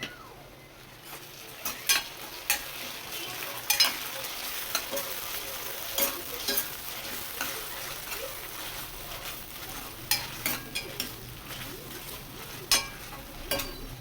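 Onions and ground spinach paste stir-fry in a hot pan for palak rice, a steady sizzle broken by repeated scraping and clinks of the spoon against the pan.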